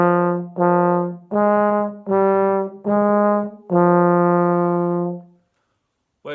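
A brass instrument plays the first line of a Grade 2 study, six separate sustained notes with short gaps between them, the last one held longest, clear and close with no talking.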